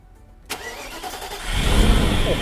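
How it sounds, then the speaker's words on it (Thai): A Mercedes-Benz SL500 R129 V8 cranks with a sharp catch and fires up, settling into a loud, steady idle that swells slightly, with no talking. "เดี๋ยวเราไปฟังเสียงเครื่องยนต์กันนะครับ"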